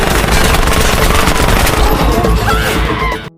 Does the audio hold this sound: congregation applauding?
no